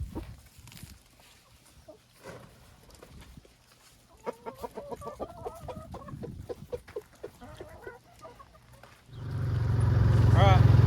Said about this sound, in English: What you doing there, Rooster?